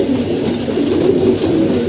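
Pigeons coo steadily at close range while they feed, a continuous layered murmur of several birds with no talking.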